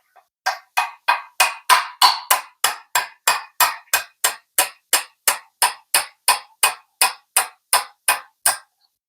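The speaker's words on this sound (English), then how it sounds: "Let's use the actual punch, not a screwdriver." Hammer tapping a punch into a truck transmission top cover on an NV4500 gearbox, about twenty-two sharp metallic taps in an even, quick rhythm, close and loud with no talk.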